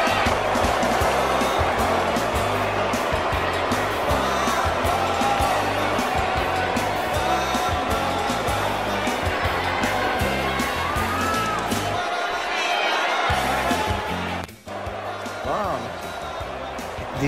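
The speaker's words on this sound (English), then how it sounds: "The crowd was loving it. They were cheering for me." A wrestling match crowd cheers and roars continuously and loudly, a dense wash of voices with thumping beats underneath, dropping briefly near the end.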